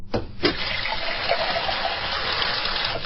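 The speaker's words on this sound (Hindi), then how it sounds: "बगल की दीवार पर एक यंत्र लगा हुआ था, जिसे घुमाने पर उसमें से पानी बहने लगता था।" Water rushes from a turned, wall-mounted device: a couple of quick knocks, then a steady, close gushing flow that continues without pause or voices.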